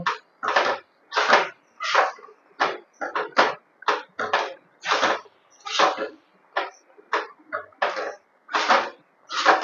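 A spoon stirs ghee-coated konika bhog rice in a pan, making about twenty steady, rhythmic scraping strokes. Each stroke is a short, close, moderately loud scrape, with near silence between them.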